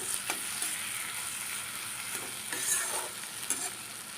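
Brinjal with egg fries in a pan with a steady, close sizzle and faint stirring clicks throughout, with no voices.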